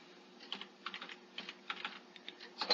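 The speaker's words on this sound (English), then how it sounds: "So I type that in" Keys tapped on a computer keyboard while entering a number into a budget spreadsheet, a quick irregular run of soft, close clicks in a quiet room.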